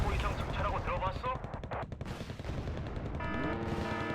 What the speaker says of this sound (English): thankfully we fire very quickly with the US Marines AT4s